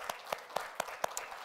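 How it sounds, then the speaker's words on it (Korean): A church congregation claps together during a Easter service, a short run of evenly spaced, moderately loud claps in a steady rhythm. "우리 박수 한번 하겠습니다"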